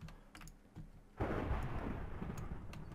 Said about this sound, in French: C'est sûr qu'il y a le tonnerre.